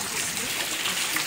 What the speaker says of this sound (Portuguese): Como é que tá a noite aqui de chuva?